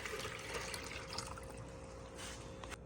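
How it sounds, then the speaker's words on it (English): Liquid pours steadily into a bucket in a quiet garage setting, a soft continuous trickle and splash, close but faint, with no voices. "Just gonna pour that in there like that."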